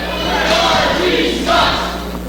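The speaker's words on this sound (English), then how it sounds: "Chanting, Barbie sucks." Wrestling crowd at an independent show chants in a rough, roaring mass, voices rising and falling in two swells over a steady low hum, loud and close throughout.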